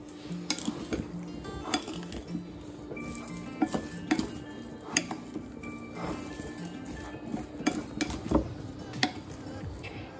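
Vegetables mixed with salt in a bowl for roasting make repeated clinks and scrapes of a utensil against the dish, in irregular bursts of stirring at close range.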